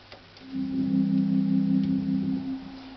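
A single low, steady organ tone from a Crumar organ's 16-foot flute drawbar, with a soft, hollow flute-like quality, swelling in and holding for about two seconds before fading.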